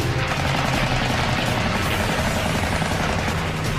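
Dense, loud, continuous roar of aircraft .50 caliber machine guns firing in a Pacific dogfight, sustained without a break and blended with engine noise.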